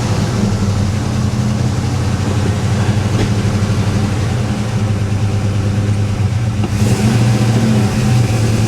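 A 1974 Chevy El Camino with a 327 V8 runs loud and close, its engine revving in a steady low rumble with a slight rise near the end, and no one talking.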